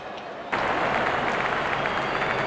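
Crowd at a Pakistan versus Bangladesh cricket Test match breaks into sudden applause and cheering as the openers walk out, a loud, dense wash of clapping that holds steady after its abrupt start.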